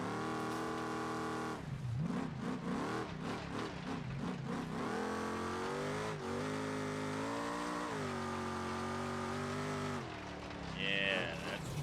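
Car engine in BeamNG racing a vehicle off-road, a steady loud droning hum that rises and falls in pitch as the throttle shifts, with an excited voice shouting over it.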